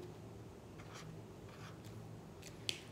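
Felt pen or marker dotting and stroking lines on paper while decorating a Mother's Day card, heard as faint scratchy taps and short strokes, quiet and close, with no talk.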